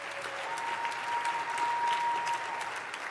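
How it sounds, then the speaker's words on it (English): An audience at a celebrity roast breaks into steady applause, a dense even patter of many hands heard at moderate distance, with no speech over it. "Give her a round of applause."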